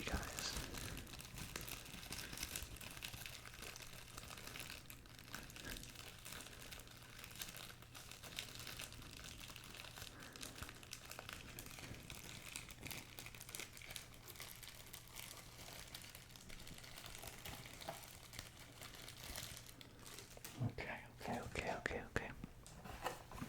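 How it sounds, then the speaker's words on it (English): Crinkling plastic wrap on a 2023-24 NBA Mosaic trading card blaster box, a steady close rustle and crackle lasting throughout, with soft whispering under it. "Some crinkle sounds for you guys."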